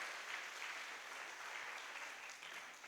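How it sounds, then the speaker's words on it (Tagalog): A church congregation claps for God in a faint, continuous patter of many hands that holds evenly throughout without any talking. "Mas malakas pong palakpak para po sa Diyos"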